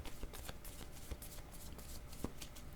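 Tarot cards shuffled close by to draw another card, a soft steady riffling and slapping of the deck with a few sharper taps, fairly quiet and with no talking.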